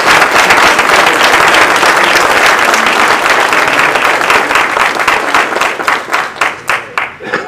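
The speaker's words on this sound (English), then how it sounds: "let's give the Lord a hand clap." Applause from a congregation at a celebration-of-life memorial service, loud sustained clapping from many hands that thins into scattered individual claps toward the end.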